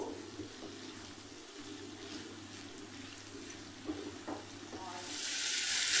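Vegetable spring roll filling with coriander and black pepper frying in a pan while being stirred, a low steady sizzle with soft scrapes and clinks, swelling into a louder hiss at the close.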